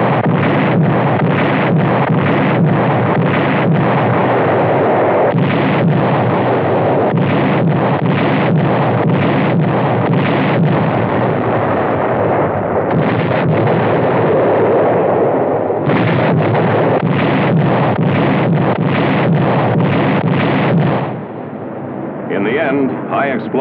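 Rapid, repeated booming blasts of heavy naval gunfire and artillery explosions at the WWII Anzio beachhead, loud and rumbling, in dense bursts with brief pauses, heavily distorted like old footage.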